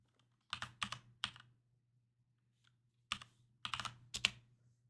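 Two quick bursts of typing on a computer keyboard, picked up by a poorly placed microphone, each a cluster of clicky keystrokes separated by a gap of silence over a steady low hum.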